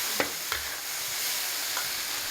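Food stir-fried in a large wok over a wood fire in a farmhouse courtyard, a steady close sizzle with a few sharp scraping strokes near the start and one more later.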